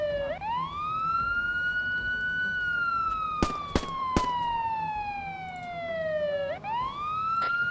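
Rising and falling wail of a vehicle siren in a sci-fi video game, loud and steady throughout, cycling up and down with a few sharp clicks partway through and faint talk underneath.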